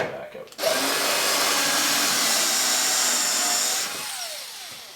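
A power drill bores a recess into wood for a platform bed, whirring loud and steady from close by for about three seconds before winding down, with a brief quieter lead-in.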